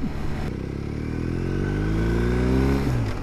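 A BMW R1250R motorcycle engine revs steadily upward in first gear, its pitch climbing over a few seconds before easing off, loud and close.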